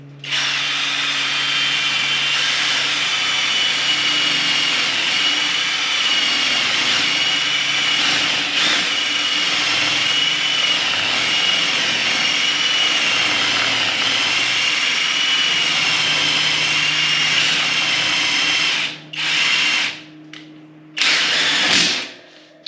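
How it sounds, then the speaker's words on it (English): An electric drill runs steadily for about twenty seconds with a constant high whine, then stops, briefly restarts twice, and falls quiet. "So I'll start the drilling process, line that up."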